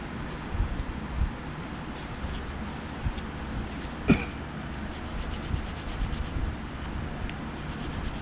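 Cleaning a Shakespeare Tiger fishing reel produces a steady close rubbing and wiping sound, with a few light knocks and a brief cough or throat clear partway through.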